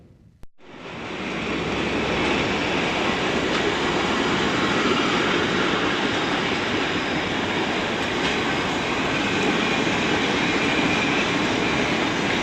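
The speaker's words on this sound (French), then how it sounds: "De nombreux trains y font étape." A train rolls past at a railway station in a southeast Polish rail town, a steady loud rumble and rush of wheels that holds constant for about twelve seconds after a sudden onset.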